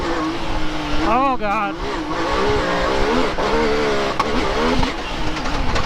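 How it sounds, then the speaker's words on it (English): A Yamaha YXZ side-by-side with a DLP turbo kit revs loudly close up, its engine popping with a few sharp backfire cracks over the roar while a man exclaims briefly. "Got them backfires"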